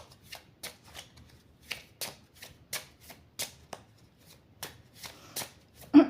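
A deck of cards being shuffled and cut, with a dozen short riffling bursts in a steady rhythm, close and clear, ending on one louder snap. No voices.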